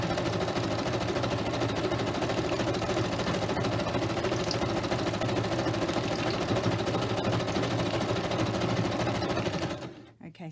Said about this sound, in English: You could turn your volume down if you don't like the sewing.